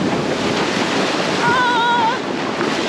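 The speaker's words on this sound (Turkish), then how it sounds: "Dalga geri çekiyor." Ocean waves wash back off the shore at Palomino, Colombia, a continuous loud rush of surf with strong wind buffeting the microphone and a brief thin whistling tone midway.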